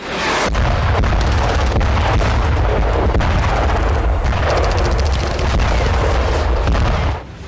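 Artillery explosions in the war zone of Nagorno-Karabakh, heard as a loud, dense, continuous rumble of booms and crackling blasts that fill the whole stretch before cutting off near the end.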